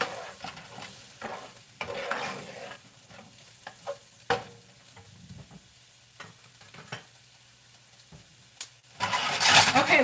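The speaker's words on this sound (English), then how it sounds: "we're gonna let that cook, let it saute" Food for Italian meatball subs sautés in a pan, with a steady sizzle under close, irregular spoon scrapes and clinks, a loud burst of sizzling rising near the end.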